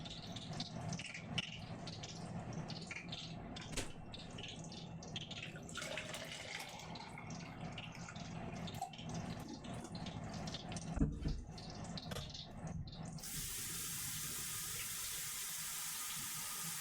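A kitchen tap runs steadily into a sink during home cooking, a constant broadband rush that builds and ends in a brighter, louder stream, with light clinks and rattles of dishes nearby.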